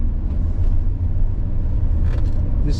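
A Mercedes-Benz 560SL's engine runs with a steady, loud low rumble on a road test drive, heard alone without talk.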